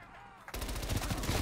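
Rapid automatic gunfire from Call of Duty Cold War Zombies, a burst of close, loud repeated shots that starts suddenly after a quiet moment.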